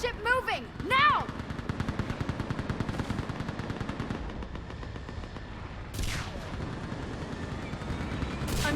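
A gunship in Mass Effect 3 lays down a long, steady rhythmic stream of rapid-fire shots, moderately distant and continuous, with a voice shouting at the start.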